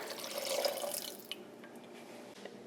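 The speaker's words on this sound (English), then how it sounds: "To that, we're going to add 3/4 cup of water" Three-quarters of a cup of water is poured into a pot for hard-candy syrup, a soft, close splashing trickle that fades to a few faint drips.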